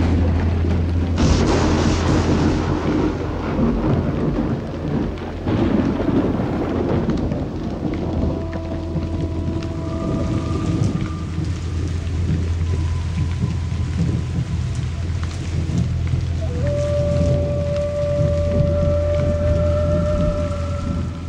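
Heavy rain falls onto soil in a loud, continuous wash, with deep rumbling underneath and a few sustained tones drifting over it in the later part.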